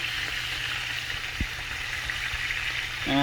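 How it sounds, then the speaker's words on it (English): Bacon frying in a T-fal pan, a steady close sizzle and crackle of grease with a brief clatter near the end. "Cooking the bacon a bit longer than what I'd like, but it's all for the review"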